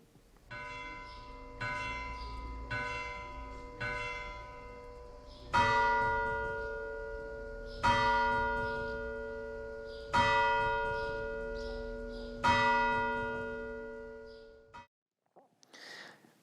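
A large church bell tolls in slow, repeated strikes, each ringing out and decaying into the next; the peals stop abruptly near the end.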